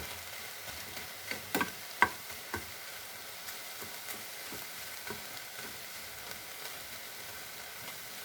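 Eggs and vegetables fry in a little oil with a soft, steady sizzle. A utensil stirs and scrapes the pan in irregular clicks and taps throughout, with no voices.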